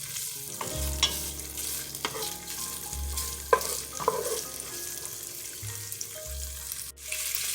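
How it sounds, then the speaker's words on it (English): Bacon sizzles steadily in a pan over medium-low heat, with occasional stirring clinks and a low hum under the frying, heard close and without talk. "I'm going to add my bacon in. And now all we're going to do is cook it"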